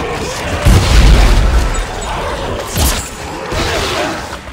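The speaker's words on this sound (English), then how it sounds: "The force gun." Force gun from the Dead Space 3 video game firing: a deep, loud concussive boom with a broad blast, then a second, smaller thump about two seconds later over a steady rumble.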